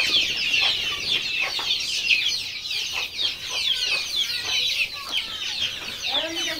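A crowd of day-old native desi chicks cheeps continuously and shrilly at close range, many overlapping high peeps forming a busy, unbroken chorus.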